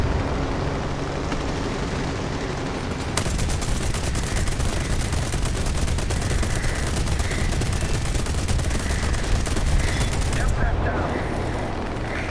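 Naval anti-aircraft gunners in War Thunder keep up dense, rapid fire at incoming planes. The shots run together into a loud, sustained rattle that barely lets up, with battle noise beneath it.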